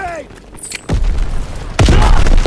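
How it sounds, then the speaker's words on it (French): A grenade goes off in a World War II shooter game, with two heavy booming blasts about a second apart, loud and close and rumbling over a brief bit of background game noise. "Ah grenade."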